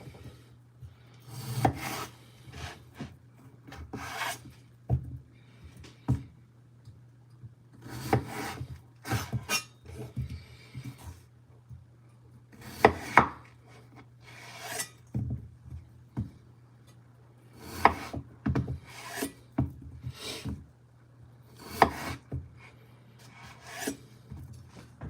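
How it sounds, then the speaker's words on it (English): Potatoes being cut and diced for breakfast, a series of irregular knife chops and scrapes on a board with short pauses, fairly quiet and close. "So let's get these potatoes cut up, diced up."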